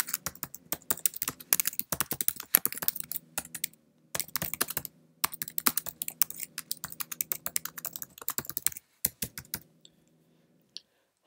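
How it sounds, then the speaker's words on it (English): Typing on a Mac computer keyboard, a near, steady run of crisp key clicks in uneven bursts with short pauses, ending in a few sparse taps and a last isolated click. "Let's now type something else other than the title."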